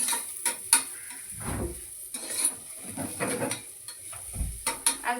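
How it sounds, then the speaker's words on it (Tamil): Onions being sautéed in a pan, with intermittent spatula scrapes and soft clinks over a faint sizzle, close by and uneven in rhythm, with no talking. "வெங்காயம் வந்து நல்லா வதங்கிடுச்சு"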